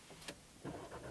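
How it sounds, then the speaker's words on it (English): A 2019 Audi RS3 five-cylinder engine fires up with a short starter whir and a quick rising rev, followed by a throaty idle, close by and fairly loud. "the pops and the crackles from that exhaust, they're just so intoxicating"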